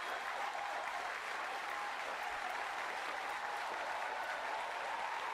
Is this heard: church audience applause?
yes